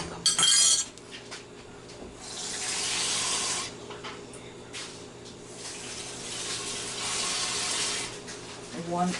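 A cup of water is poured into a pot of washed rice being prepared for arroz con pollo, two splashing streams of a few seconds each with a light clink between them.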